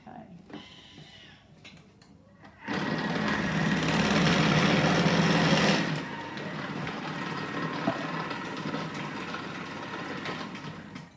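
Thermomix motor with cutter attachment slicing Spanish onion, a steady whirring hum with chopping rattle that swells loud for a few seconds then settles to a lower running drone, with a voice speaking nearby.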